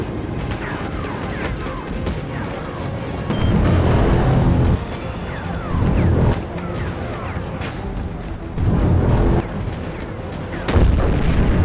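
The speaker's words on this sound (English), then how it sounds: "I like this new gun." Repeated heavy gunfire from a new weapon in the mech combat video game Mecha Knights, loud booming bursts recurring every second or two over a dense rumbling battle bed with a voice speaking at times.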